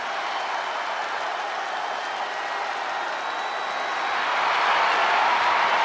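Arena crowd cheering in the video game WWE 2K25, a steady, dense roar of many voices and applause that holds throughout and grows louder toward the end.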